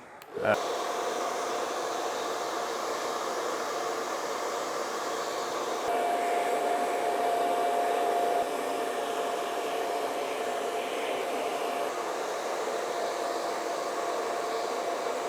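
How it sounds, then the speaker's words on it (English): A hair dryer with a diffuser attached dries curly hair in a salon. A loud, steady, close whooshing drone starts after a brief click and runs without pause, its pitch shifting slightly midway. "I'm going to, like I say, use this diffuser, but I'm not going to dry it completely."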